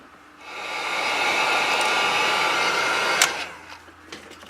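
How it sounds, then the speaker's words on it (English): A dryer blowing to dry paint, a steady loud rushing whoosh that holds for about three seconds then cuts off, followed by a couple of light clicks. "let me dry this and we'll get ready to take the wrap off."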